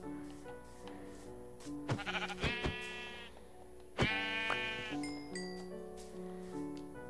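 Sheep bleating in Minecraft, with two distinct wavering bleats a couple of seconds apart over soft, steady in-game background tones.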